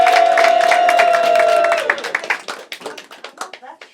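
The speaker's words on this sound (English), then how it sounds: "Let's hear everyone stamping their feet, clapping their hands, and cheering." An audience at a live variety show claps, stamps and cheers, starting as a dense roar over a sustained tone and breaking up into loud, separate, rhythmic claps and stamps toward the end.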